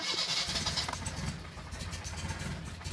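A Datsun L series 1600 engine on a dyno cranks briefly and catches, settling into a rough mid-pitched idle, steady and close.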